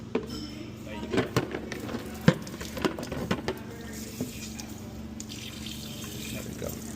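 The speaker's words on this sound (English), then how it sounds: "I'll open some of those faucets down there" Water runs from kitchen faucets in a steady wash with scattered splashes, knocks and clinks. The sound is moderately close, with occasional speech in the background.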